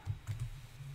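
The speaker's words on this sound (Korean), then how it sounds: "타이핑해 봅니다" Quiet typing on a computer keyboard while entering code: a few soft, uneven bursts of key clicks with short gaps between them, close but faint, with no talk.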